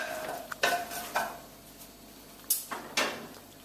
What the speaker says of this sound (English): So I'm just going to give them a little stir.